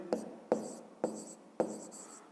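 Pen strokes on paper while working a fifth-grade maths exercise come as four short, crisp scratchy bursts at roughly half-second intervals, close and fairly quiet with no talking.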